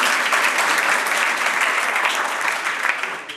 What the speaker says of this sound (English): that's nice that you clap your hands